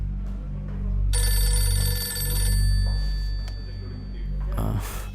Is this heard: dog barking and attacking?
no